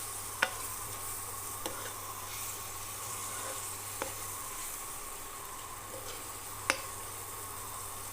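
Paneer sizzling in a pan of cooked spice masala, a quiet steady frying hiss with a few sharp ticks of a utensil against the pan, close and alone.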